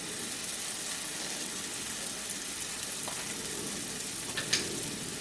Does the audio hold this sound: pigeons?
no